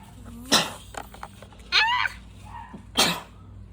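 Three sharp sneezes or cough-like bursts come from a person on a boat, spaced about a second apart, each loud and abrupt, over a low steady engine hum.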